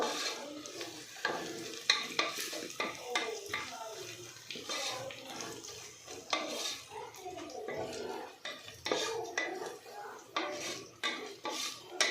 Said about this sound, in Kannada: ನಾನು ಇಲ್ಲಿ ಒಂದು ಸ್ವಲ್ಪ ಗೋಡಂಬಿ ಹಾಕ್ಕೊತಾ ಇದ್ದೀನಿ